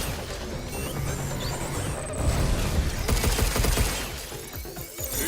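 Dense rapid gunfire and crashing impacts from Mass Effect Andromeda combat, a loud continuous barrage of shots and smashes that swells midway and keeps going without voices over it.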